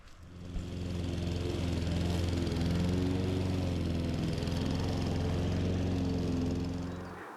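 Close lawn mower engine running steadily with a throaty, buzzing drone that starts up, holds even for several seconds, then cuts off, alone with no talk.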